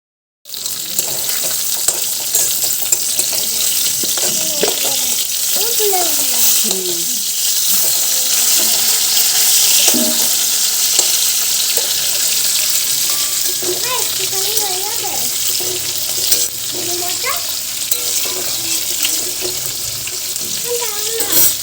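Greens frying in a pan in a home kitchen, with a steady broadband hiss of sizzling oil running throughout, joined by occasional water and utensil noises and faint voices in the background.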